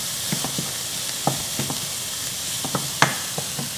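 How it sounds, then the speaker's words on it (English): Saltfish sizzling with seasoning such as onion powder and black pepper in a frying pan, a steady loud hiss broken by soft stirring clicks and scrapes, close up with no voices. "You kind of frying the saltfish a little bit at this point."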